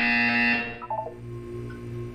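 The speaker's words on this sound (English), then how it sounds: "You will hear a buzzer." A loud electronic buzzer sounds in a Portal 2 test chamber. It holds for about half a second, then drops to a short, quieter tonal tail with a low hum underneath. No speech.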